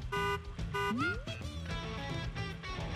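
Kart horn honks from a Mario Kart Live Home Circuit toy kart in a home setting, a few short bright toots over busy game music and effects, close and fairly loud.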